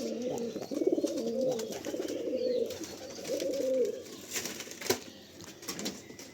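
Pigeons kept at a home loft coo in soft repeated throaty phrases at close range, with some faint chirps and a brief flutter in the background.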